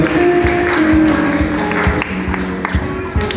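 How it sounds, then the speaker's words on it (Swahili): A church congregation at an Easter service applauds visiting guests, a burst of rhythmic clapping from many hands, fairly loud and close, with some voices mixed in. "tuwapigie wageni wetu makofi mazuri wanapokuja"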